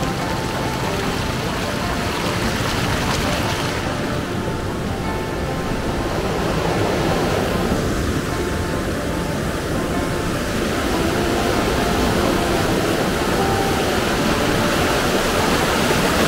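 Steady rushing of water at the clear Blue River spring in Travnik, Bosnia, a continuous broadband roar that stays loud and even throughout, with no voices.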